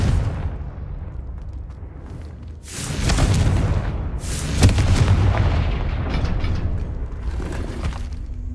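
A Confringo blasting spell explodes in Hogwarts Legacy, a quiet low rumble giving way to loud, broad booming blasts with a sharp peak near the middle and sustained crackling rumble afterward.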